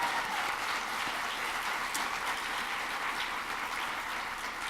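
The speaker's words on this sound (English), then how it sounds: "Give them a round of applause." A large crowd at a keynote address applauds steadily, a dense, even roar of clapping that continues for several seconds without pause.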